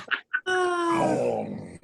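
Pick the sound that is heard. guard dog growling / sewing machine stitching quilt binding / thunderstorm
guard dog growling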